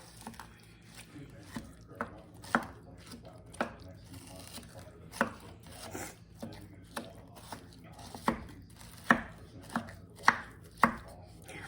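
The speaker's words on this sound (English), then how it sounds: "we are just going to dump our ground beef in there. And we're going to kind of chop it up some" Raw ground beef being chopped up in a slow cooker for goulash, about fifteen soft, dull utensil strikes at an uneven pace, close and clear over quiet background.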